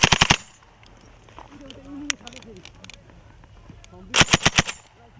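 Military small-arms fire from a training battle in the Saber Strike exercise with the Royal Gurkha Regiment: a fast, loud burst of automatic shots, a quieter stretch with faint voices and scattered single cracks, then another sharp burst.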